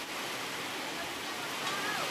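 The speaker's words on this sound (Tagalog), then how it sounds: "kami inaabot dito ng malakas na ulan" Heavy rain pours in a dense, steady roar during a May storm at a house, a constant broadband hiss close by with no break.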